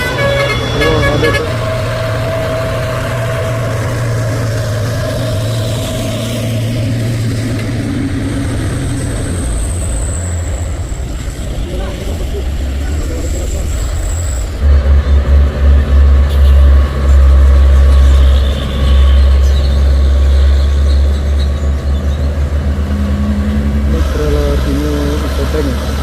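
A trailer truck labours up a steep hill, a loud, low diesel drone that deepens and grows heavier partway through, with a horn toot and someone speaking intermittently over the engine.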